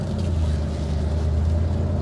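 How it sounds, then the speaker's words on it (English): A 1946 Mercury 8 convertible's engine pulls away in first gear, a steady, loud low rumble with a strong bass hum that holds even throughout, no voices over it. "Listen, that engine."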